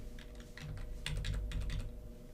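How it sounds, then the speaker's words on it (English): Rapid typing of a terminal command on a computer keyboard: a close, steady run of crisp key clicks in uneven clusters, with no voices. "I'm gonna type netcat"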